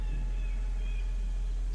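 A domestic cat meows faintly indoors, one soft, brief call over a steady low electrical hum.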